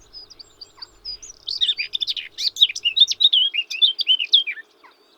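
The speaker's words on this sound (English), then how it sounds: "This is a blackcap," A blackcap sings from a bramble perch, a few thin high notes first and then a rapid, loud, warbling phrase of tumbling chirps close by in otherwise quiet surroundings.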